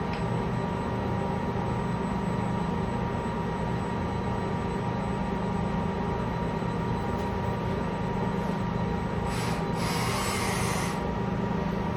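Cooper welding cobot moving through a straight weld program with the arc off, a steady mechanical hum and whir of servo motion, continuous and even, with a short hissing rush near the end.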